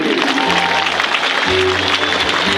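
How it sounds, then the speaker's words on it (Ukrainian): Audience applause at an outdoor folklore festival in Polissia, a dense continuous wash of clapping from a large crowd, with sustained tones from music or voices droning underneath. "Це заслуговує бурхливих аплодисментів."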